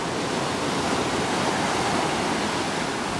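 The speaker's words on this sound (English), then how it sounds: "some of these are a bit bigger waves" Ocean waves surge ashore on the West Coast Trail in steady, dense rushing surf that is loud and close, unbroken across the whole stretch with no voices.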